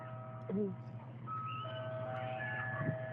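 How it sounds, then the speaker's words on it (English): Eerie ice cream truck chime in a horror story setting, a few sustained melodic tones gliding over a steady low rumble, with a voice speaking briefly beneath. "Locals would describe the chime of an ice cream truck, except wrong in every way."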